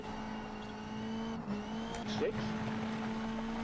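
Peugeot 206 WRC rally car driving a stage in the WRC Generations game, a steady engine drone held throughout with a brief pitch dip and rise midway, under continuous talk.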